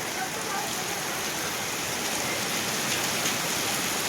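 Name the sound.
heavy rain falling near a temple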